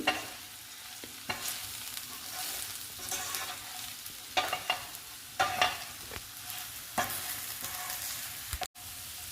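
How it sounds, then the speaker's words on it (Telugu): Sliced okra fries with red chili spice powder in a pan, a continuous close sizzle broken by regular scraping stirs of a spatula. "ఇప్పుడు ఈ కారాన్ని కూడా 2 నిమిషాలు వేయించుకోవాలి."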